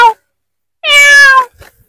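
A voice imitates a cat: one drawn-out, nasal meow, loud and close, preceded by a brief vocal sound, with silence around it.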